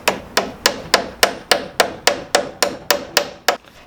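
A run of twelve sharp, evenly spaced hammer strikes drives 3/8 inch wooden plugs into drilled holes on a farmhouse-style desk build, each knock close, loud and ringing briefly before the next.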